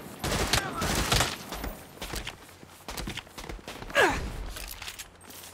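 Gunfire in the Saints Row video game: several sharp bursts of shots crack at close range amid game noise, with voices talking intermittently between them.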